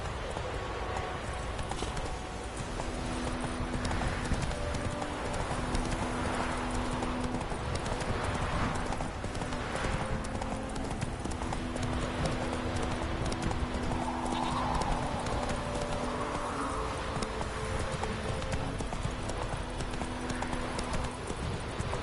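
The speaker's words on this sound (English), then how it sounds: "Whoa there, Roach." Horse hooves clip-clop at a steady walking rhythm in The Witcher 3 game, with occasional whinnies and soft ambient music beneath, moderately quiet and without speech.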